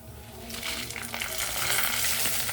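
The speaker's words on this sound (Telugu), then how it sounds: "ఇప్పుడు మిరపకాయలు వేస్తున్నానండి." Red chillies dropped into hot oil in a pan for a Telugu ridge gourd onion-chilli curry, a sizzle that swells from quiet to a loud, steady crackling hiss, close up with no talking.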